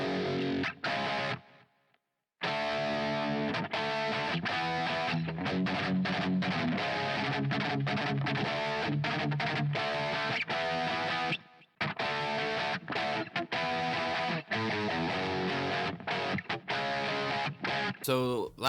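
Distorted electric guitar riffs run through a blend of two virtual Marshall-style amps, loud and continuous with tight chugging rhythm parts for an arrangement, broken by a short pause and a brief drop near the middle.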